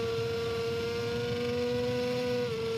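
A motorcycle engine on a lap of the TT-Assen circuit screams at high revs in a sustained, steady tone, with the pitch dipping slightly near the end as it shifts.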